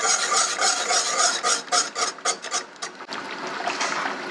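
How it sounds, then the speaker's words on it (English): A spoon scrapes and rasps against a pan while sugar and jalapeños are stirred to make candied jalapeños, or cowboy candy. The strokes are close, quick and scratchy, then break into short uneven scrapes toward the end. "So be sure that you don't stop stirring this until all of that sugar has dissolved."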